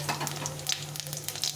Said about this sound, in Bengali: কড়াইতে তেল দিয়ে দিলাম পরিমাণ মতো, একটা শুকনো লঙ্কা আর কিছুটা দিয়ে ফোড়ন দিয়ে দিলাম।